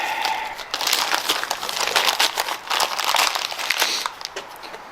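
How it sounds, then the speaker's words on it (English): Plastic packaging crinkling and crunching as a new engine part for an EJ25 Subaru engine refresh is unwrapped, loud close handling in irregular bursts for several seconds. "go ahead and unbox this thing"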